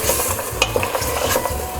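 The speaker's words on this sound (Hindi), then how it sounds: "तो इस तरह चम्मच चलाते रहें" A spoon scrapes and knocks repeatedly against a pot of beef yakhni pulao in a quick, uneven rhythm over a soft frying sizzle, close and clear.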